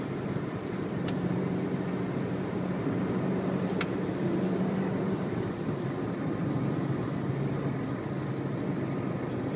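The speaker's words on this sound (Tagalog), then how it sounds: "Yan, truck ng tubo." A sugarcane truck rolls past on a road in Tuy, giving a steady broadband engine and road rumble that holds at an even level throughout, with two faint sharp clicks and no talking.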